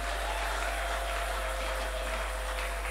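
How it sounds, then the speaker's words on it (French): A church congregation applauds in a dense, steady wash of clapping that holds evenly throughout, with a constant electrical hum underneath. "Oui, applaudissez le Seigneur bien-aimé."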